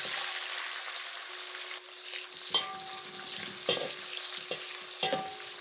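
Chopped large onions frying in hot oil with cinnamon, cloves, cardamom and bay leaves, a steady close sizzle with a few sharper stirring scrapes and clatters, no voices.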